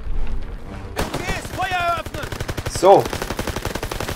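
Bursts of rapid gunfire in Call of Duty WW2 crack and rattle close by while someone talks over the shooting.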